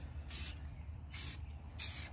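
Three short bursts of spray paint hiss as a peel coat goes onto an Audi A7 wheel rim, each lasting about a quarter second with quiet pauses between, close and fairly soft.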